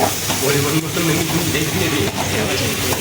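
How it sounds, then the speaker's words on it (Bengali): Curry with turmeric and chili powder stirred in a pan makes a loud, dense sizzle and scraping hiss that carries on without a break across the short stretch, up close. "আর দিল হলুদ, দিল গুঁড়ো লঙ্কা দিবে, আবার পরিমাণ মতন গুঁড়ো লঙ্কা 2 চামচ হাফ, আর একটু নেড়ে নেবো পরিমাণ মতন,"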